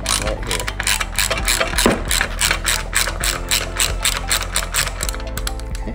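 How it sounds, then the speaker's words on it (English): A socket wrench ratchets steadily while loosening a nut on an electric conversion bracket, a fast, continuous run of close, loud mechanical clicks with no talk. "You're going to grab this nut on the inside, right there, and then loosen this right here."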